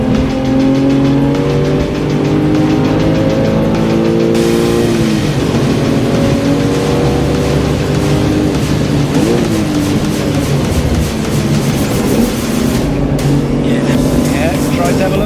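Porsche 911 engine pulling hard at full throttle on the Castle Combe circuit, a loud, steady roar with shifting tones as revs rise and fall, heard close from onboard with voices talking over it.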